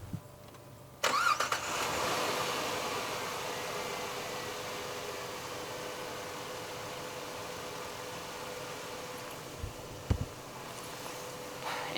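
A car with a relocated battery cranks briefly and catches, then settles into a steady, even idle that continues close by, with no talking.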